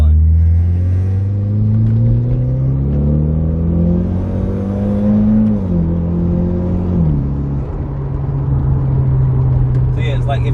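A Mitsubishi Evo X engine climbs steadily in pitch through a loud, close acceleration pull, drops briefly at a shift, then climbs again before settling into a steady drone.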